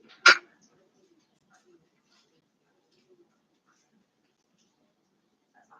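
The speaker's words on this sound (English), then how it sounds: "Barking." A single sharp dog bark rings out near the start, followed by near silence with only faint scattered noises.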